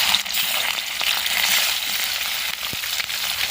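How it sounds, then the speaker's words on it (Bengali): Salt-and-turmeric-coated fish frying in hot mustard oil in a karahi, a loud continuous close sizzle with a few faint clicks and no talking. "এবার লবণ আর হলুদ মাখানো মাছগুলোকে দিয়ে দেব।"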